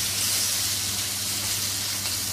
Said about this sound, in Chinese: 我哋煎封埋啲鸡丁先